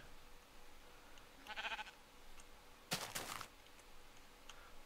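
Two short bleats from a Minecraft sheep, the second louder and sharper, over a faint steady background hum.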